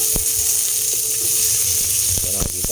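Chopped onions sizzle in hot oil in a pan for a Filipino sinabawang saging na saba, a steady close frying hiss broken by a few sharp pops and clinks of a stirring utensil.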